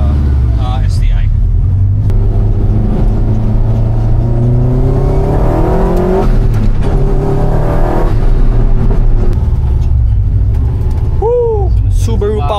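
A Subaru STI Spec C engine revs loudly and up close, its pitch rising and falling across several sustained pulls, while people talk and cheer over it.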